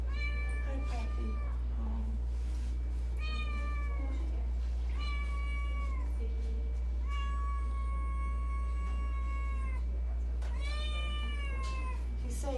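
Several cats at the Hermitage meow repeatedly in drawn-out, wavering calls, some overlapping, close by over a steady low hum, with a person speaking softly between the calls.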